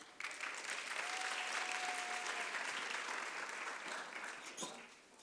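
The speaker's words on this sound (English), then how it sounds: "Please give a warm round of applause for Kirsten Lindsmith." An audience at a Love and Autism talk claps to welcome speaker Kirsten Lindsmith: steady, moderately quiet applause from a room of people, rising quickly, holding for several seconds, then thinning out near the end.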